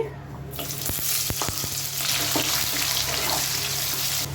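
Onions hit hot oil in a pan with a sudden loud sizzle that builds into a steady crackling fry, with several sharp clacks of a utensil early on.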